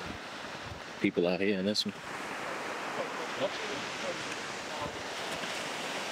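Surf washing onto a beach in Florianopolis, Brazil, a steady loud wash of breaking waves mixed with wind buffeting the microphone, with someone talking briefly near the start.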